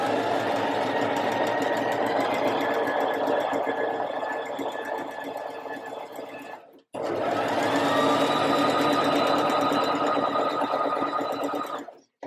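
A sewing machine runs a straight stitch along the top edge of a puff-sleeve dress sleeve. It whirs loud and steady for about seven seconds, stops briefly, then starts again and runs steadily to the end.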